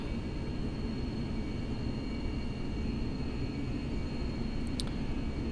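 FSLabs A320X airliner engines at climb thrust in a flight simulator game, a steady, even broadband roar with a low rumble that holds constant throughout, joined by a brief faint high click near the end.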